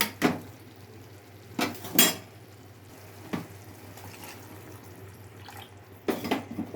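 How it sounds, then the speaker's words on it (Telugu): Water is poured into a pot of curry on the stove, giving a few sharp clinks and splashy bursts separated by quiet gaps over a steady low hum, with no talk. "ఒక చిన్న గ్లాస్ నీళ్ళు అయితే పోసాను."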